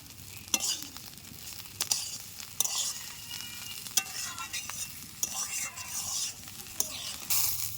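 Rice grains frying in a pan for hilsa pulao, a quiet steady sizzle with repeated scraping stirs from a spatula, no voices.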